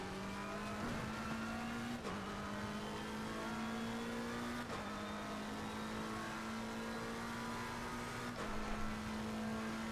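A race car engine runs at a steady high drone that holds almost the whole time, with brief dips and re-surges a few times as the driver lifts, coasts and accelerates again. It sounds close and continuous, with no talk over it.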